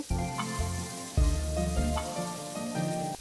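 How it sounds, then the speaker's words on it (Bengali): Vegetables with leafy greens and salt frying in a pan, a close, loud crackling sizzle with bursts as they are stirred and tossed, and no talking. "এখানে পরিমাণ মতো নুন দিয়ে সবজিগুলো সব ভালো করে ভেজে নেবো"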